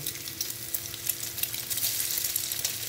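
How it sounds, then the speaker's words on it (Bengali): Eggs frying in a small amount of oil in a pan give a steady, close sizzle that grows slightly louder over a few seconds, heard alone with no voices. "ডিমটা ভাজার জন্য আমি বেশি তেল দিলাম না, আমি কম তেলেই ভাজবো"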